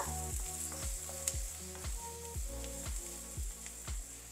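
Ingredients for fried rice sizzle and hiss steadily in a pan, a soft continuous frying sound with faint stirring, heard under quiet rhythmic background music.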